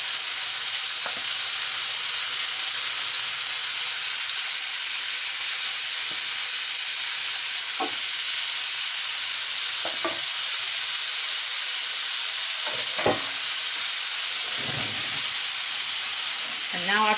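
Lamb chops searing in hot oil in a pan, a steady, loud sizzle close up, broken by a few scraping and clinking knocks as the pieces are placed and moved.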